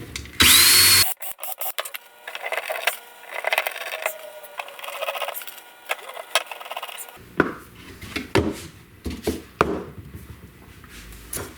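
A power drill drives screws into 3D printed heddle supports on a rigid heddle loom, giving a short, loud whir near the start, followed by scattered handling knocks and rubbing.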